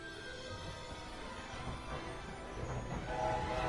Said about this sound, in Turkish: Buharlı trene.